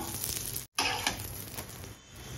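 A small mini puran poli sizzles in ghee on a hot pan, steady close frying hiss broken by a brief silent gap, with no voices.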